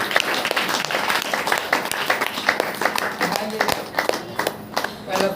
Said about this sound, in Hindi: ताली बजाकर परमेश्वर, हालेलुया।